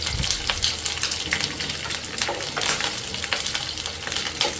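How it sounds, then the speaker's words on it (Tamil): Chopped garlic and onion sauté in hot oil in a pan for a coconut-free Madurai thanni chutney, giving a steady close sizzle with scraping stirs throughout and no talking. "நல்லா வதக்கிக்கோங்க"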